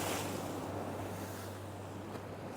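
Sea water splashes up around a fishing boat in rough conditions, a steady broadband wash of surf with wind buffeting the microphone, continuous and fairly close with no talking.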